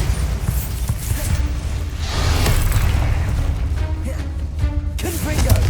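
A Bombarda explosion spell goes off in Hogwarts Legacy on PS5, a loud, sustained booming blast with a rumbling low end and crackling debris lasting several seconds.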